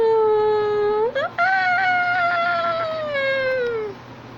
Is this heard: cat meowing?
yes